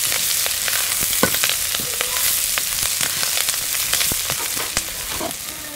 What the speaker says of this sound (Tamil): இந்த மாதிரி கிளறினீங்கன்னா நல்ல வாசனாக இருக்கும். வெங்காயம் நல்லா சுவந்து வரணும்.